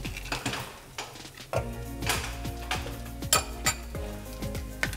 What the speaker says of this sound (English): So the first thing we're going to do is put some butter in our rice cooker.